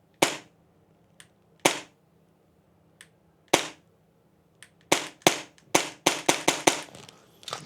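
A Krytac MAXIM9 airsoft pistol fires sharp, loud, close cracks: several isolated shots with long gaps between them, then a quicker string of about ten shots at a fairly slow, uneven rate, with no talking.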